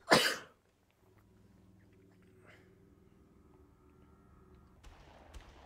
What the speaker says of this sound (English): Uh-oh, sneeze.